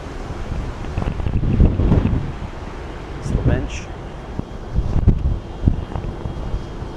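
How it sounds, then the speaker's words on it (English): Gusts of wind buffet the microphone in rumbling bursts on the deck of the cruise ship Carnival Horizon, with a person speaking briefly underneath. "So windy, but the breeze feels so nice after this hot summer we had."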